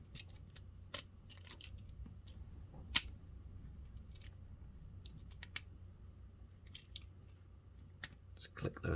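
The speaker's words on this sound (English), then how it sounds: "Just click those together." Plastic parts of a Hasbro Transformers Studio Series Wheeljack figure snap together in small, sharp clicks, sparse and quiet at close range, with one louder snap partway through.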